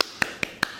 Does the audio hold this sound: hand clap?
yes